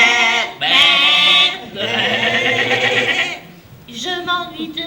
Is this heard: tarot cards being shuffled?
no